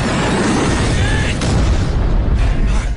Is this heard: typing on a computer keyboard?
no